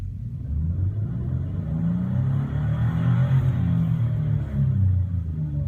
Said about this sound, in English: So when I put my foot to the floor, you'll see the tacho come up, but it won't move up real quickly.